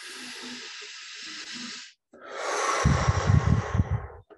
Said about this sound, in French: Prenons encore 3 respirations profondes.